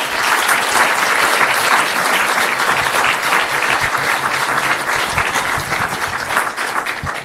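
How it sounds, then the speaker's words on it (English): Sustained applause from a lecture audience at an addiction and recovery lecture series featuring college students, dense steady clapping filling the room at close range for the whole stretch, no voices over it. "let's give them a round of applause"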